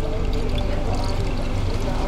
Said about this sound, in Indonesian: Dibilas kakinya pakai sabun.